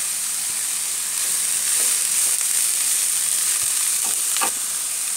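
Chopped onions are sautéed in a pan for a clam meat roast. They give a steady, close frying sizzle with occasional soft stirring scrapes and no talking.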